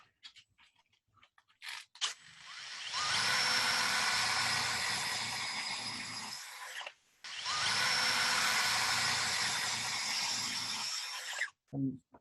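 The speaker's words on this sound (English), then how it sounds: "and spin the drill" Electric drill spinning 80 grit sandpaper to shape a small wooden part, two sustained high whining runs of several seconds each, separated by short pauses and light handling clicks.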